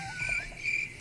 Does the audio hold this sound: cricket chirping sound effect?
yes